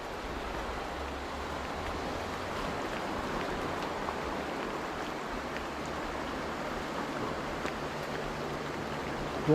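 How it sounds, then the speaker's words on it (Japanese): Rain falls steadily at a remote fishing camp, a continuous soft hiss with an even wash of water noise and no talking, holding at a moderate level. "また雨降ってきたね。"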